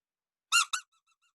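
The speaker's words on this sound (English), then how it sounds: "You might have a squeaky toy somewhere you could use." A squeaky toy gives two quick, bright squeaks close by, followed by a few faint trailing peeps, with no talking.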